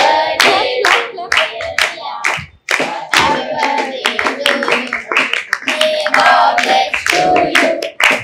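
A small group claps in rapid bursts at a birthday celebration in a humanity home, loud and close, with voices talking and calling over the applause.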